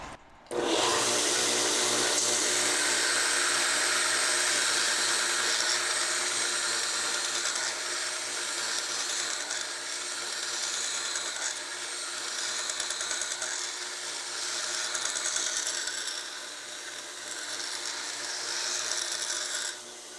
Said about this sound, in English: this 120 grit belt does the work just as fast as I need it to do